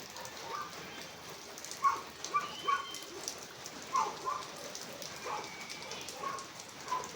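Rain falling on surfaces outdoors in the Philippines during a scrap-collecting round, a soft, steady patter with scattered louder drips and faint bird chirps and a distant dog in the background.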